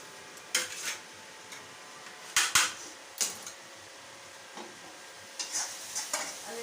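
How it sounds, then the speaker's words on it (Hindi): Coriander being chopped with a knife in a home kitchen: a few scattered bursts of quick chopping taps on a board, separated by quiet gaps, close and moderately loud. "तब तक के धनिया काट लेता हूँ"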